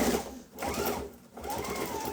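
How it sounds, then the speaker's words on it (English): A sewing machine stitches through a duffle bag panel stiffened with soft foam interfacing, running close and steady in a continuous whirring burst with two brief slowdowns. "I can just kind of smash it down and get it under my machine."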